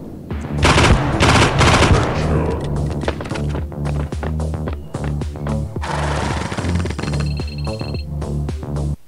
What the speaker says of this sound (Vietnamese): Súng tiểu liên thì bắn rất là dễ thôi.